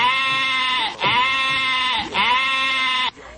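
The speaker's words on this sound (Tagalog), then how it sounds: "Ginising ang teen housemates ng ingay ng kambing" Three long, nasal goat bleats in a row, loud and close, each wavering cry separated by a brief pause.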